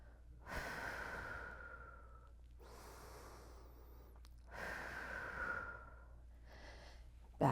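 Heavy, effortful breathing during an isometric exercise hold, in long drawn-out inhales and exhales in three or four loud waves, close and alone with no talk.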